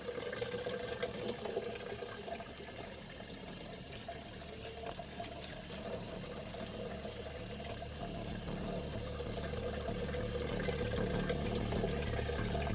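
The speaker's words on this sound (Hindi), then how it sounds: "इस झरने से पानी भरने का इंतजार।" Continuous splashing and gurgling of spring water pouring into pots in Bundelkhand, steady and fairly close, growing a little fuller toward the end.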